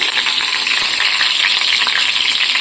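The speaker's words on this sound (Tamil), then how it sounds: "நல்லெண்ணெய் ஆட் பண்ணிக்கிறதுனால கொஞ்சம் வெடிக்குது" Sesame oil crackles and sizzles steadily in an iron pan as it heats, a dense, continuous spitting hiss up close with no voices.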